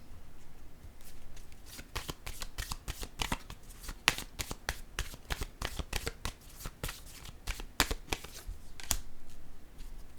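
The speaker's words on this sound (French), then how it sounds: "Je vais déposer une carte sur le message à l'envers." Tarot cards are handled close by, giving a rapid series of soft, papery flicks and slaps that continue unevenly throughout.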